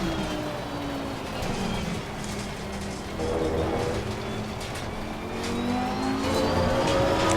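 Race car engine in Assetto Corsa Competizione on PS4, a steady droning roar with rising and falling revs through gear changes, sustained and fairly loud throughout.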